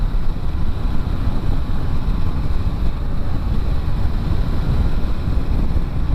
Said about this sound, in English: I'm getting an awful lot more wind noise around my helmet.